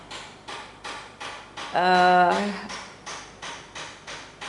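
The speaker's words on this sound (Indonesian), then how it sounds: "sorry ya, lagi renovasi tetangga saya. Mohon maaf ya kalau berisik." Hammering from a neighbour's home renovation: steady, evenly spaced blows about twice a second, briefly interrupted by a louder squealing tonal sound before the regular knocking resumes.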